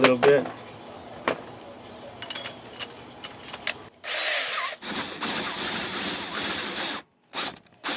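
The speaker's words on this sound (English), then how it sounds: "I'm gonna drill it a little bit." Power drill working on a part for a homemade fishing reel, with a sustained loud run in the second half, a short break, and then another burst after scattered clicks and handling sounds.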